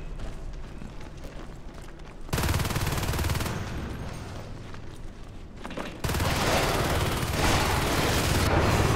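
Heavy sustained automatic rifle fire from marines in Natural Selection 2, a loud rapid fusillade in two long bursts with a short drop in intensity between them.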